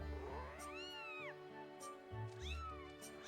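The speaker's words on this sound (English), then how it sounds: "This is another cat." A cat meows twice in the video game Skyward Sword, two rising and falling cries about a second and a half apart, clear and fairly loud over steady background music.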